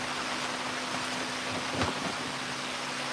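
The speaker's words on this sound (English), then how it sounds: "Oh, it's raining." Rain falls steadily outdoors at a chainsaw wood-carving workspace, a soft, even hiss with no voices.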